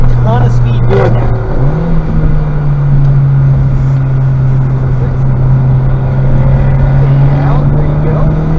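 A Honda Civic Type R is driven fast through a corner on a track day circuit, its engine holding a steady loud drone that rises slightly after a brief dip, with talk running over it.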